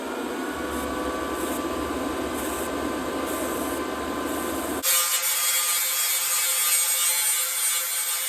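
Sheet metal of a 1950 Ford F1 fender panel being cut, a steady harsh rasping buzz that shifts abruptly to a higher, brighter whine midway through, loud and close with no talk.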